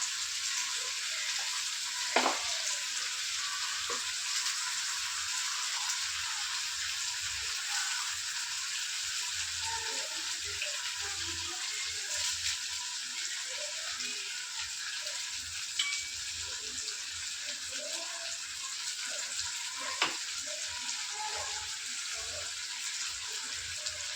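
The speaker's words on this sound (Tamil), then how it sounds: "இப்போ தக்காளி வெங்காயம் எல்லாம் நல்லா வதங்கிடுச்சு" Chopped tomatoes and onions sauté in a pan with a steady, soft sizzle, a continuous quiet frying hiss broken by a few faint clicks of stirring.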